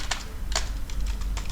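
A computer keyboard being typed on: a short burst of several crisp, close key clicks in an uneven rhythm, with no voice over them.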